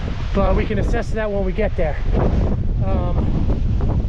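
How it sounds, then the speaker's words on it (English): Strong wind buffets the microphone throughout in the White Mountains near Mount Washington, making a loud continuous rumble under someone talking. "Pretty windy as it is right here"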